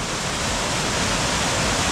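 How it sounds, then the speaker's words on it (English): Water pours steadily down a tall waterfall of about fifteen feet on a hillside hiking trail, a dense, unbroken roar heard up close with no voices over it. "This was the best waterfall so far."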